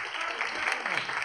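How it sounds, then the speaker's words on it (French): An audience gives a standing ovation at a televised concert celebrating a music group's anniversary: dense, steady applause fills the whole short stretch at an even loudness, with no pauses. "Merci d'applaudir très fort."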